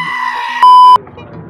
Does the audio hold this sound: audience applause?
no